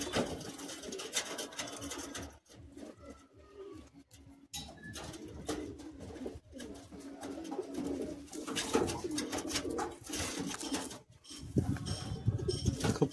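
Old Madrasi high-flying pigeons coo in a crowded loft, continuous overlapping low calls close by, with occasional wing flutters and shuffling noises between them.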